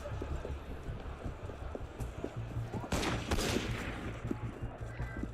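Sniper gunfire in Assassin's Creed Unity, a sharp burst of shots roughly midway over a busy game soundscape of clattering hooves and scattered impacts.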